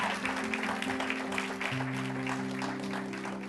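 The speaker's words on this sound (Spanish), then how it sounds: "Den un aplauso fuerte, aleluya" A church congregation claps loudly in a steady, sustained roar of applause, with music playing underneath.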